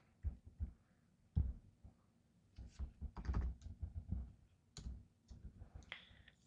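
A computer keyboard clatters with irregular bursts of typing, the keys clicking and tapping in short clusters with pauses between them, close and fairly quiet, with no talking.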